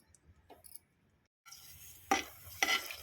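Dried red chillies roast in a pan over low heat. After a quiet start, a light sizzle rises and two bright spatula scrapes ring out as they are stirred.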